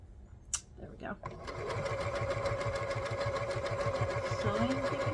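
A sewing machine stitches fabric for a Bargello quilt block, starting after a few handling clicks, then running with a steady, rapid mechanical chatter close up while someone talks softly.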